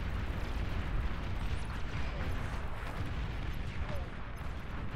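Plasma cannon fire and explosions from a large 8v8 battle in the real-time strategy game Beyond All Reason, a dense continuous rumble of booming blasts and crackling impacts.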